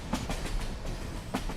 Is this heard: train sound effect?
yes